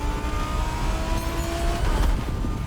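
A Liberty Walk sports car engine in the video game The Crew Motorfest drones and revs steadily, loud and close, with a rising whine near the end.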